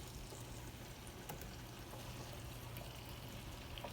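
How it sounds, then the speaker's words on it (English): Water is poured into a pan of potatoes, making a soft, steady trickling pour with faint crackles over about four seconds. "just a little bit of water to help the potatoes soften up just a little bit"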